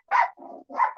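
A dog lets out a quick bark, a lower growling grumble and then a second bark in a tight sequence, close and loud against otherwise quiet surroundings.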